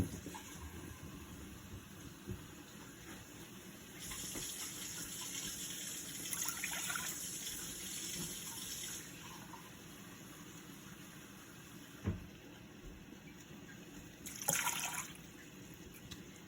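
Water pours and splashes into a measuring cup in a kitchen in two bursts, a longer stretch and then a short one, with quiet handling noises between.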